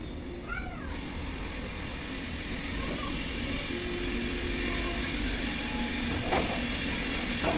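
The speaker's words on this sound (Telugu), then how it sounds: "మాకు పక్కనే రైల్వే ట్రాక్లు ఉన్నాయి ఫ్రెండ్స్, అందుకనే ట్రైన్ సౌండ్ వస్తుంది." A train rolls along a railway track right beside a home, a steady broad rumble with faint wheel squeals, nearby and continuous for several seconds, with a cat meowing briefly early on.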